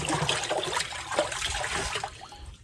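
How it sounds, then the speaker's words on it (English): Salt water and acid slosh and swirl around in a tub while a bison hide pickling bath is mixed, a continuous close splashing and churning of liquid with no talk. "And then we'll get our acid, dump it in there, give it a little wash around."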